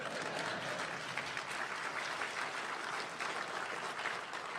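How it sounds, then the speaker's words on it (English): An audience at a Federalist Society 35th anniversary speech applauds steadily and loudly, with dense clapping that holds an even level throughout. "And you know, you can clap for that."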